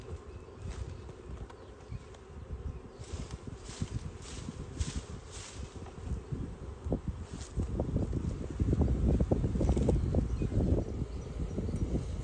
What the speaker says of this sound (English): I can be pretty certain that all these bees are going to come into this box too.